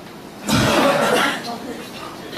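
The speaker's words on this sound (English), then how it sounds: "Then cough." An audience at a product demonstration coughs together on request, a burst of mixed coughs and throat clearing with some chuckles, rising suddenly then fading over about a second.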